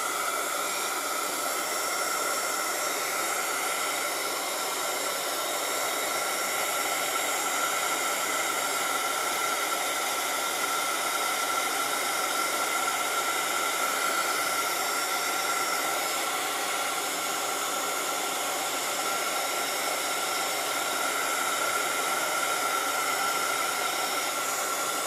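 A hair dryer blowing on a watercolor painting, a steady loud whooshing hiss that holds unbroken the whole time.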